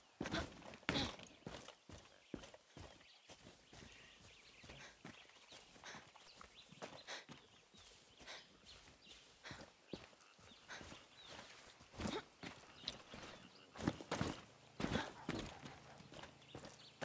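A painted horse's hooves clip-clop in a video game, an uneven run of sharp thuds that rise and fall in loudness, mixed with soft scuffs and game sounds, with no voices.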